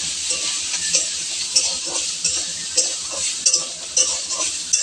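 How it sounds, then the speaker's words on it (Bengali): Soybean chunks coated in turmeric and chili powder fry in hot oil in a pan, a loud close sizzle broken by regular stirring scrapes and clinks of the spatula, no voices. "এবার এটা এই তেলে দিয়ে ভালো করে ভাজা করে নেব।"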